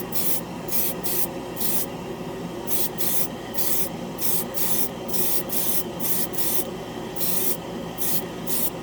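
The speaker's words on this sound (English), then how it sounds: "This is, I think this is Tamiya gray in the spray can. So let's go over a primered spoon." Tamiya gray paint hissing from a spray can onto a primered plastic spoon, a steady close hiss broken into a series of short bursts with brief gaps, no talking.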